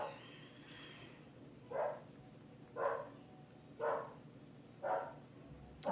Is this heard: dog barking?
yes